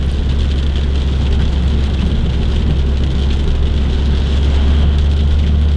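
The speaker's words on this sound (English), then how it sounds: "it just started raining about half hour ago, 20 minutes ago" Steady, loud rain falling in a continuous hiss, with a constant low rumble underneath and no voices.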